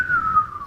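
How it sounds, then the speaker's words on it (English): A single sustained human whistle, a clear steady tone that glides slowly downward, heard close and alone with no talking. "You got to get your whistle skills."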